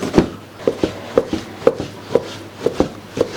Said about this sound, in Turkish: Yine etlerimizi küçük küçük doğrayıp